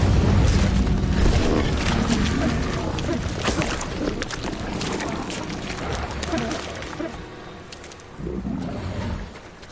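The Incendio fire spell is cast in Hogwarts Legacy, a dense roaring burst of flame and magic that slowly fades over several seconds amid game ambience.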